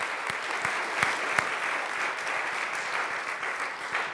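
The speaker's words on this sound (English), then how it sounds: "I think we ought to give them a round of applause for that." A congregation claps steadily for several seconds, a moderate, even patter of many hands with a few sharper claps standing out.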